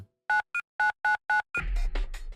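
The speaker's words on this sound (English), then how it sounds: "Taking out my cell phone, I dialed the principal's private number from memory." Five short, evenly spaced electronic beeps as a cell phone number is keyed in a visual novel game, followed by a brief burst of ringing or line tone, clean and close with nothing else around it.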